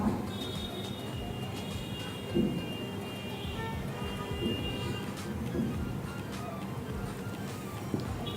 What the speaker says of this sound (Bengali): তো স্টেশনে ওয়েট করতে করতে দেখলাম বাংলাদেশেও বেশ কয়েকটা ট্রেন এদিক দিয়ে ক্রস করে গিয়েছে